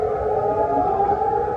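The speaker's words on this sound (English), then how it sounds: "Air raid sirens echoing here in Jordan" Air raid sirens wail across Jordan in a steady, sustained tone that echoes at a distance and carries continuously throughout.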